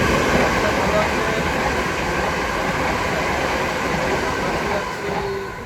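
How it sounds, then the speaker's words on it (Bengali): A steady, loud rumble of a train passing at a station, continuous throughout with a faint rhythmic rattle of wagons. "ট্রেনের আওয়াজ শুনে বুঝতে পারতেছেন আমরা স্টেশনে আছি"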